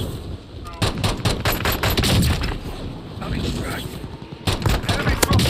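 Sniper and automatic gunfire in a battle-royale shooter video game, a dense run of sharp loud cracks and bursts over several seconds, with a brief lull before more shots.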